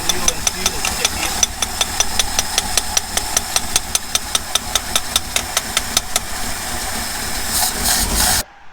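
An engine with a sticky carburetor needle and seat idles with a rapid, even ticking knock under a steady hiss, then cuts out abruptly near the end as it stalls. Close and fairly loud, with no speech over it.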